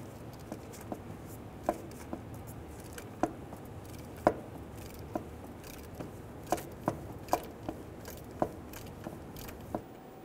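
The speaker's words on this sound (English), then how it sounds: "Using a 24mm socket, remove the oil pressure switch." Faint, irregular metallic clicks and taps from a 24mm socket loosening the oil pressure switch on a 2011-2014 Hyundai Sonata, scattered sparsely over a quiet background with no talking.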